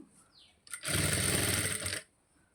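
A sewing machine stitching near the neck of a blouse, running in one loud, close burst of rapid even stitching for just over a second after a brief start-up whir.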